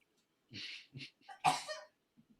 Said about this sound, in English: That was a well-timed sneeze.